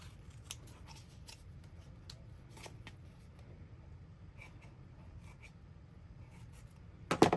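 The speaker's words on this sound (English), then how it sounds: "And then we'll cut this bottom part off." Scissors trim the bottom section off a handmade paper Memory Dex card in a papercraft session, giving a string of quiet, close snips and light paper rustles, with a louder crisp cut at the very end and no talking.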